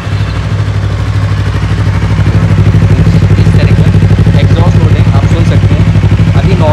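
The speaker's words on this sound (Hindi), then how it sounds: "एक बार आपको एग्जॉस्ट नोट सुना देता हूँ" A 2024 Yamaha MT-03 motorcycle idles with a steady, loud, low thrumming exhaust note that swells slightly partway through, someone talking over it.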